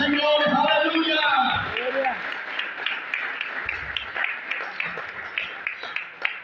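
A church congregation applauds loudly for several seconds, dense clapping that thins into scattered claps, heard under and after a preacher's raised voice.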